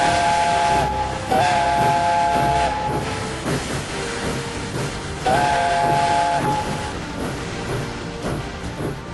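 A steam locomotive in an animated railway show sounds two loud, sustained multi-tone whistle blasts over a continuous roar and hiss of running at speed during a world speed record attempt.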